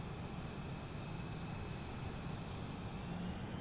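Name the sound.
jet wash vibration from a jet in the video game Ace Combat 7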